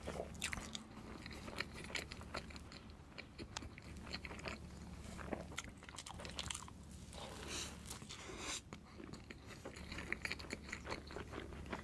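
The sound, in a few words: eating cake in big bites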